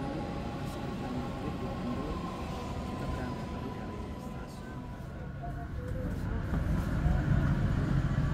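A train rolls out of Padalarang station in the evening, heard from inside as a steady low rumble and hum that builds slightly toward the end, with faint voices in the background.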